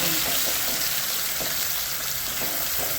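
Ground spice paste frying in hot oil, a steady dense sizzle that holds loud and even throughout, with faint stirring beneath.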